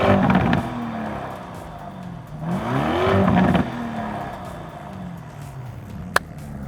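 A 2022 Lamborghini Urus exhaust revving, close and loud, with rising and falling engine sweeps, one strong climbing rev in the middle, then settling to a throbbing idle, ending with a brief sharp click.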